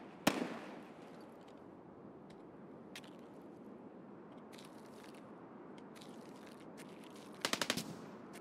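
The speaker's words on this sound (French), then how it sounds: "mais ces rafales sont un peu étranges" Gunfire bursts in Escape from Tarkov, a sharp report at the start, scattered single cracks through the middle and a quick rattling burst of several shots near the end, all heard from a distance over steady background ambience.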